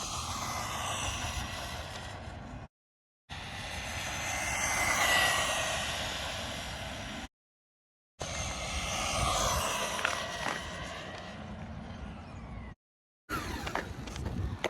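A stock Jetwood JC14EP RC truck on its stock LiPo runs at full throttle, its high electric motor whine swelling and fading across several runs broken by abrupt silent gaps, with no talking.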